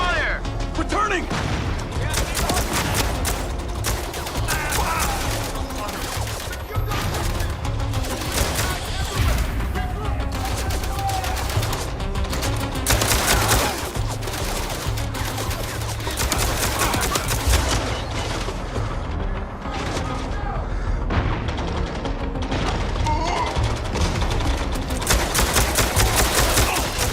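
Heavy gunfire in the video game MindsEye: dense, continuous bursts of rapid shots and explosions fill the scene, with shouted voice lines mixed in over the barrage.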